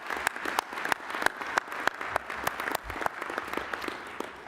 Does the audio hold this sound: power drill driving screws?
no